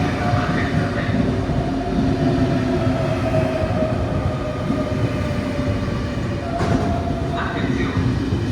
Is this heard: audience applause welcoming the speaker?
no